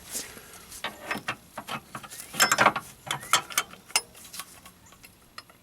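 A Nissan A/C clutch pulley being installed and its center bolt tightened, giving close metallic clicks, ratcheting ticks and clanks in an irregular run with no talk.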